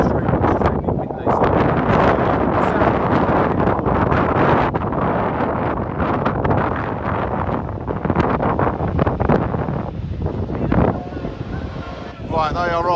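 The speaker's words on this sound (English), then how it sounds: "it's still extremely windy." Strong wind buffets the microphone at the Lydden Hill race track, a loud continuous roar with gusty surges, and a few faint sounds appear near the end.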